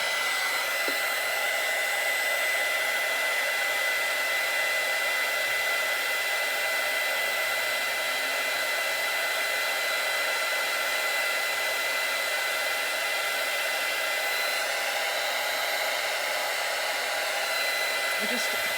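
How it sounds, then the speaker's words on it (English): Continuous, steady roar of a heat gun blowing hot air, unchanging and close throughout with no talking. "It just seems with the heat gun, it's like it takes, oh, there it goes."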